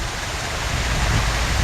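A zoo waterfall in an elephant exhibit roars as a steady, loud wash of falling water, even and unbroken with no talk.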